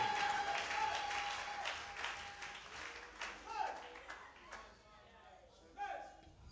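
A church congregation claps and cheers in a sustained, fairly faint wash of applause. Voices mix in, and the applause fades toward the end.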